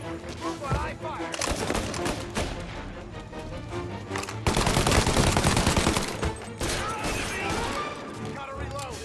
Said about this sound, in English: Move while I fire.